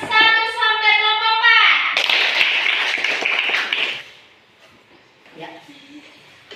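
A school class claps for student groups in a classroom, a dense burst of clapping for about two seconds that follows a sung or chanted children's phrase, then fades with faint voices afterward.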